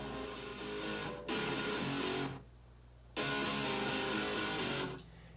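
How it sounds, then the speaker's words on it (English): A heavily distorted electric guitar chugs on low notes in two dense, sustained bursts separated by a quieter gap, close and saturated, with no voices. "this is using like a really, really distorted guitar on the low spectrum."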